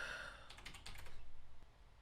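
A computer keyboard gives a short, quick burst of faint keystrokes, a rapid patter of light clicks lasting about a second over quiet room noise.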